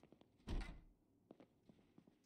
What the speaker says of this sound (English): Knock on the closed door inside the house.